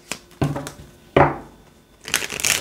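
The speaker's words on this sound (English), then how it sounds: "Last shuffle." Tarot cards being shuffled by hand, heard as several close, papery riffling bursts with brief pauses between them and no talk.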